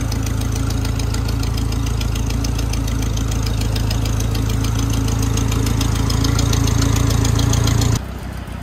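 A farm tractor's engine runs loud and close while backing up, a steady knocking diesel chug that holds at a constant pace, then cuts off abruptly near the end.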